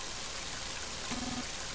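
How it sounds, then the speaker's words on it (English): Heavy rain in the video game Mother 3 pours as a dense, steady hiss, with a brief low tone sounding partway through. "Mighty heavy rain, isn't it?"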